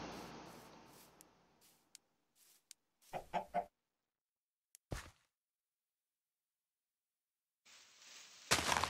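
Chicken clucking in the Minecraft video game, a few short clucks in separate bursts amid gaps of silence and choppy game noise.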